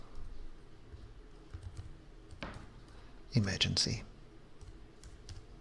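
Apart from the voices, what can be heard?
typing on a computer keyboard into a form field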